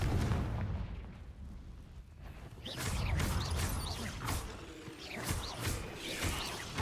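A Confringo blasting spell in Hogwarts Legacy fires in repeated booming bursts with crackling debris tails, loud and close, several blasts within a few seconds.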